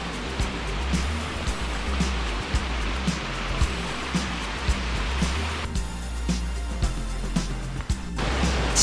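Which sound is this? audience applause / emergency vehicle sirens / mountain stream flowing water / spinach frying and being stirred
mountain stream flowing water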